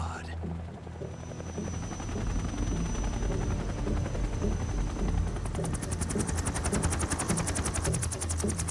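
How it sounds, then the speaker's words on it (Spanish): Helicopters drone continuously in the video game Metal Gear Solid 3 while rapid machine-gun bursts rattle over them, dense and loud throughout and growing sharper in the latter half. "Siento que tantos helicópteros llaman mucho la atención."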